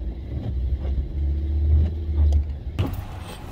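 Cars rumble low and steady in rainy-day traffic, and near the end a sharper wet hiss bursts in as a vehicle passes close on the wet road.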